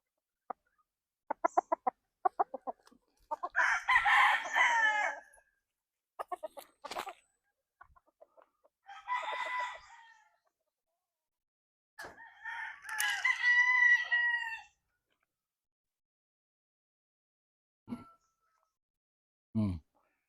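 An eight-month-old Roundhead gamefowl stag crows several times in short separate bursts, with a few soft clucks between calls, against an otherwise quiet background.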